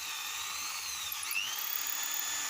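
A drill fitted with a 4.5 mm bit bores into sonokeling wood for a knife handle, giving a continuous high-pitched whine. The pitch dips and recovers once partway through, and the sound is close and steady with no talk.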